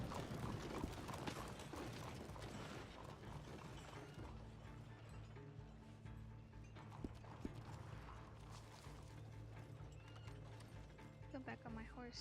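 Rhythmic hoofbeats of a galloping horse in a Western roleplay video game run throughout, mixed with busy game sound effects and music, with a few sharp clicks near the end.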